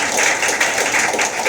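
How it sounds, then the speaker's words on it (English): Audience applause at a school parent meeting, a steady burst of many hands clapping for children just introduced, continuous and moderately loud with no talk over it. "Give them another round of applause."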